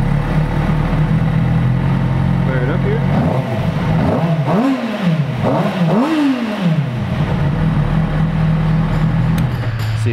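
A 2008 Kawasaki ZX6R sport bike with its stock exhaust starts up and settles into a steady, loud idle, with two rising-and-falling revs partway through.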